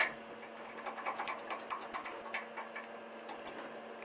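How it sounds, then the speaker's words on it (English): A hand file is run over a Honda CBR600RR motorcycle drain bolt clamped in aluminum vise jaws, quick rhythmic scraping strokes, about a dozen short rasps in steady succession, close but fairly soft. "what I'm going to do is run a file on all four sides"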